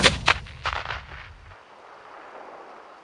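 Pyrotechnics fired off outdoors by a small group, a few sharp loud bangs in quick succession in the first second and a half, then a fading rumble and hiss that trails off into quiet.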